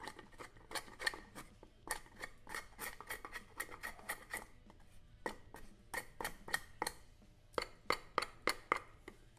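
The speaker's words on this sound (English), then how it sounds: "So I'm going to try out some, just shaving off some of this wood." A copper damascus knife shaving a wooden dowel, giving a quick series of crisp scraping strokes in clusters, close and fairly quiet against a low background hum.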